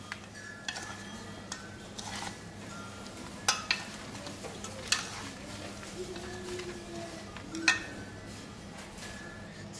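Duck meat is mixed and tossed with marinade by hand, giving soft wet squelching and shuffling with a few sharper clicks and knocks over a low steady background hum, close and fairly quiet, no talking.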